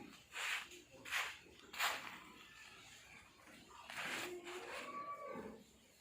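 Cattle in a fattening pen at a cattle farm, with a few short moos or calls in the first seconds, then a longer, louder low moo near the end, with faint pen noise between.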